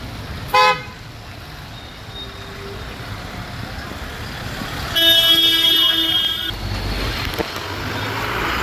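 Car horns honk on a pothole-damaged road toward Vajreshwari near Virar, with a sharp short toot early and a longer, louder blare midway over steady traffic rumble, with engines idling and passing.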